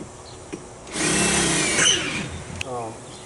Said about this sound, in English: So I'll go ahead and drill another hole.